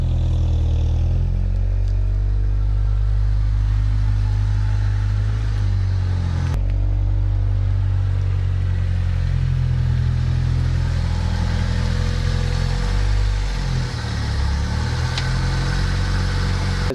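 A Honda Civic's engine cranks and starts, then settles into a steady, loud, close idle with a deep rumble and some clatter throughout, no talk over it.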